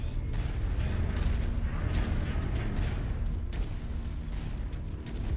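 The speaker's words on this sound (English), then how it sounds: "I keep hearing explosions" Distant explosions boom repeatedly in MechWarrior 5, deep rumbling blasts with sharp cracks layered over a constant low background roar.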